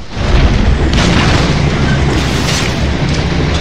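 A grenade goes off in a Halo 3 custom game, a loud, close, sustained rumbling explosion that fills the whole stretch with roaring low-end noise and no voices.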